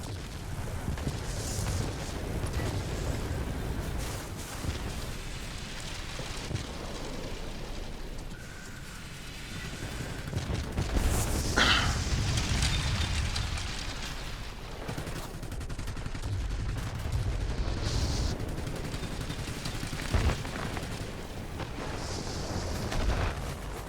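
Explosions and gunfire from a World of Warplanes battle, where an Ilyushin IL-20 attack aircraft strikes an anti-aircraft emplacement, form a continuous dense rumble of blasts and firing with a few sharper bursts throughout.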